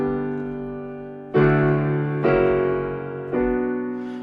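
A chord progression from Hamilton carrying the backstory, with sustained chords changing every second or so, each new chord entering with a fresh attack over ringing tones, no talking.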